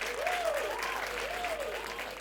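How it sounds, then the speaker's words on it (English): Crowd applause at a comedy and music show, a dense steady wash of clapping with a faint voice or tone drifting over it. "Give yourself a round of applause."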